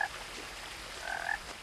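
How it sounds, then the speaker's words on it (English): Frog croaking in the video game What Remains of Edith Finch, two short croaks a second apart over quiet ambient background. "I really want to find this frog now."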